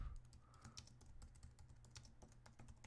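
Quick, steady typing on a computer keyboard, a continuous run of soft, close key clicks with no voices.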